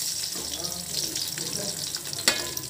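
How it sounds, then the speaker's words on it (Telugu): Green chillies and curry leaves fry in a pan of oil for jeera rice, giving a steady, fairly faint sizzle with one brief sharp crackle near the end. "పచ్చిమిరపకాయలు, కరివేపాకు బాగా వేగిపోయినాయండి."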